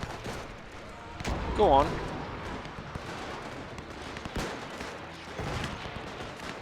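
Soldiers' rifles crack in scattered, irregular shots across a World War One battlefield in Between Empires, sharp reports mixed with a voice speaking briefly.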